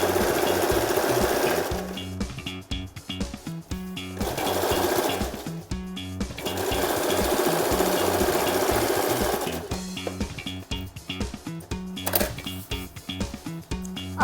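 Sewing machine stitching a strip onto a patiala salwar, fast rhythmic clattering runs of stitches broken by brief stops and restarts, close and loud.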